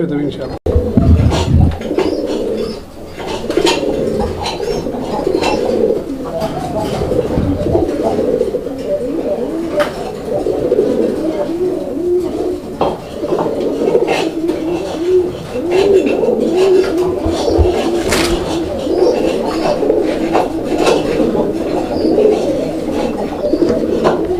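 A male and female pigeon pair coo steadily and close up, a continuous throaty burble under a voice speaking over them.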